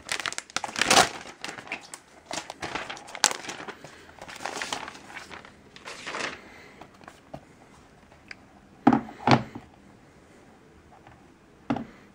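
Packaging of a 2012 11.6-inch MacBook Air with an Ivy Bridge processor crinkles and rustles in scattered bursts while it is unboxed, with two sharper, louder crackles near the end and no talking.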